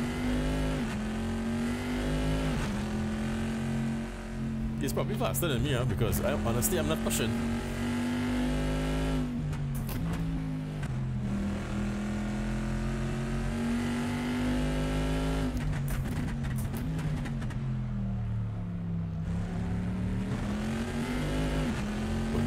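A GT2 race car engine drones steadily around Laguna Seca in Assetto Corsa, holding a low, strong tone that rises and falls through gear changes, with occasional tire squeal, while a driver talks over it throughout.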